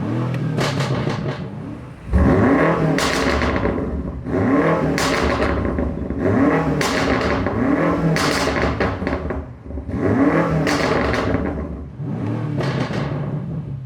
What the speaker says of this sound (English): it's already a fruitier exhaust, but now if I give it some revs in Sport Plus